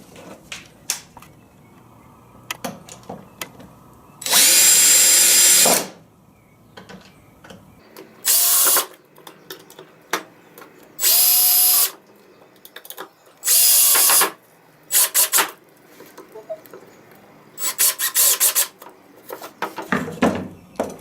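Power drill driving screws to attach the wooden back panel of a mason bee box with liner-filled holes, heard as four loud bursts of a few seconds each separated by quiet pauses, with softer handling noises in between.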